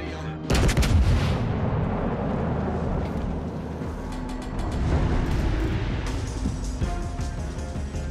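Heavy naval guns from a California battleship in World of Warships: Legends boom in repeated salvos, the thunderous blasts layered over a continuous rumbling battle din, loud and close throughout.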